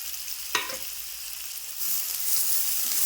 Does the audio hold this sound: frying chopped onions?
yes